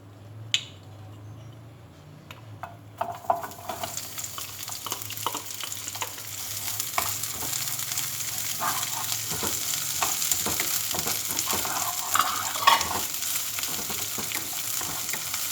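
Chopped onion sizzles in a pan over medium heat for pasta aglio olio, starting with a sharp hiss and settling into a steady close frying crackle with occasional stirring clicks.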